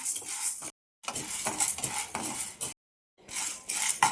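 Chana dal being dry roasted in a pan, with bursts of scraping, stirring and clinking from a utensil against the metal, broken by two short pauses of silence.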